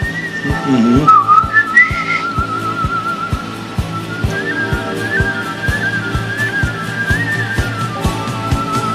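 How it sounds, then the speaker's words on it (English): A bright whistled melody glides over a steady beat and a sustained backing track, the tune rising and falling in short phrases. "I like when there's whistling in songs."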